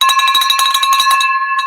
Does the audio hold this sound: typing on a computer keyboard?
no